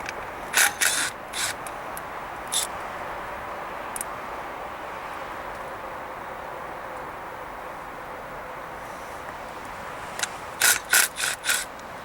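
Tools on a BMW E32 engine bay give short bursts of ratcheting and metallic clicking while a bracket is removed, separated by quiet stretches and clustering into rapid clicks toward the end.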